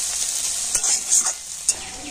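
Egg and potato fry together in a pan, a steady hissing sizzle with a few soft stirring scrapes and a light clack of the utensil against the pan, close and fairly loud.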